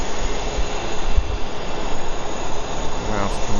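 A large Emirates airliner comes in to land at Heathrow, heard as a broad, steady jet roar from a distance, with a person speaking briefly over it.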